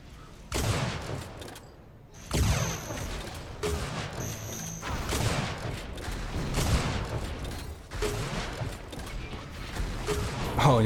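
Sniper rifle shots in Unreal Tournament during a competitive duel fire in a quick series of sharp, heavy blasts, each followed by a ringing tail, set against busy game noise.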